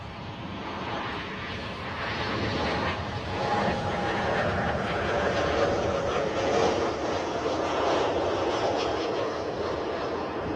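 Airliner landing at Bristol Airport, engines roaring as it rolls along the runway, a steady loud broadband rumble that swells slightly through the middle and holds to the end.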